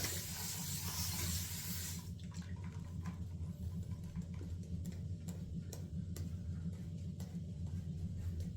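Steady rush of running tap water during wet shaving, fairly faint, with a low hum underneath and a few small clicks and taps throughout.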